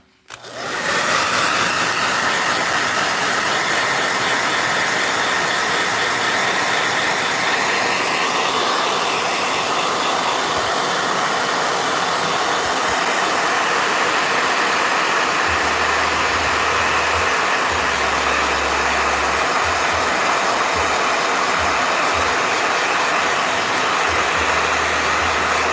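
A blow dryer switches on abruptly and runs at full power during a painting session, a loud, steady, breathy roar held without a break, with faint low bumps of handling toward the end.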